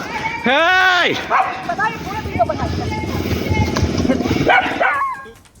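A dog barks and yelps loudly up close, a sharp bark followed by whimpering yips, mixed under someone speaking Hindi on a news broadcast.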